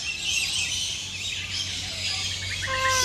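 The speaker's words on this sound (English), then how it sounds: "so many birds here at close distance" Many birds chirp, tweet and squawk at close range in the Bird Paradise aviary in Singapore, a dense, continuous chorus with clear whistled calls rising near the end.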